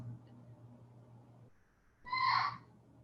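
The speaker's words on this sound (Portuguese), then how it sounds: "vocês devem estar começando a ouvir o papagaio do meu vizinho" A neighbour's parrot lets out a single bright, tonal squawk lasting about half a second, set against a low background hum. The call sounds a little distant and no one talks.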